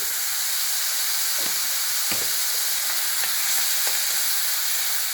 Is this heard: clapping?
no